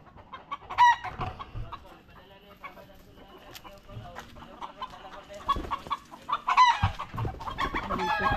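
A crowd of chickens clucks and squawks around, busy and overlapping, growing louder toward the end, with faint ambient rumble underneath.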